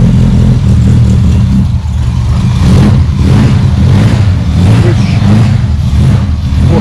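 A 750 Motor Club sporting trials car's engine runs steadily as the car is driven, a loud, close, continuous mid-pitched drone with slight rises and falls in revs and no talking over it.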